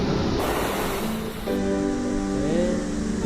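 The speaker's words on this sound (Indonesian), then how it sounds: "Ini pantai 3 warna." Steady, loud surf washes continuously at Tiga Warna beach in Indonesia, a broad roar of breaking waves with a faint tonal hum layered over the latter half.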